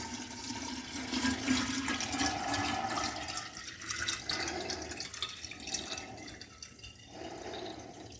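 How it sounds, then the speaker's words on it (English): A gallon of water pours into a mead mixture of honey, a continuous gurgling, splashing stream close by that rises and falls in pitch as the container fills, heard alone for several seconds. "Now we add 1 gallon of water."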